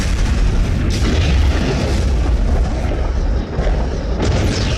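A bomb dropped from a Dauntless dive bomber explodes near an aircraft carrier, a heavy sustained boom with deep rumbling roar that stays loud and dense throughout, dipping briefly near the end.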